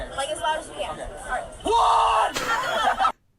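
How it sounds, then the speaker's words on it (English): A man yells as loud as he can, a sudden sustained bellow of about a second that rises above nearby chatter and laughter, close and very loud, with talk before and after. "And he really fucking yelled as loud as he could."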